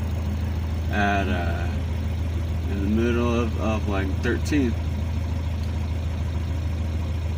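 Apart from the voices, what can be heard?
1987 Mazda B2000 engine idling with Weber DGV carburetor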